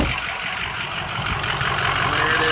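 A lifted 2005 Ford F-250 Super Duty idles steadily, a loud, close, continuous engine rumble with a broad hiss and no break over the whole stretch.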